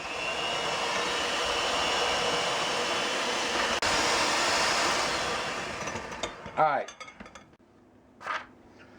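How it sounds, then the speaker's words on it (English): Apple cake batter with Greek yogurt being mixed, most likely with an electric mixer: a loud, steady broadband whir that runs for about six seconds, then stops, followed by a few faint scrapes and clinks. "Now we're going to mix all that together."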